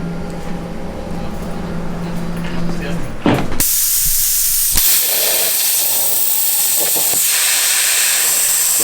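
A cutting machine is switched on to cut a hose. A low droning hum gives way to a sudden loud, rushing hiss that keeps going steadily and close, with a sharp clack partway through.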